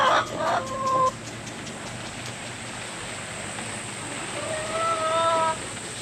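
Chickens in a tropical coop, with sharp tonal calls near the start and again toward the end over a steady hiss of rain-like background noise.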